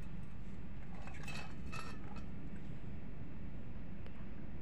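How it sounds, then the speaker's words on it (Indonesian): A Panasonic two-door refrigerator, newly fitted with a condenser and plugged back in, runs with a steady, unbroken mechanical hum and whir that holds level the whole time. No one speaks. "Setelah itu nih kulkas kita hidupkan lagi, kita colok."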